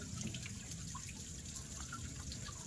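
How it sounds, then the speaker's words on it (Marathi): A waterfall near Fofsandi village pours continuously with a steady, even roar, fairly faint and uninterrupted, with no voices. "हा इथे वॉटरफॉल आहे खूप छान आवाज येतो आहे"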